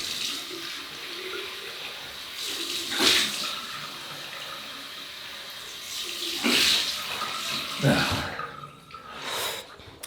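Cold tap water runs and splashes in a sink for a rinse during a wet shave, in uneven bursts and gushes close to the microphone.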